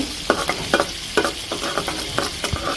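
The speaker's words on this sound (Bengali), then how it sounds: "তেল দিয়ে দিলাম তেলের সাথে পেঁয়াজও দিয়ে দিলাম লাল করার জন্য" Onions frying in oil in a pan for a river kechki fish dish, with a steady sizzle broken by repeated scraping stirs of a spoon roughly every half second, close and fairly loud, with no talking.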